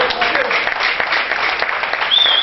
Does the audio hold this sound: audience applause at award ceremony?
yes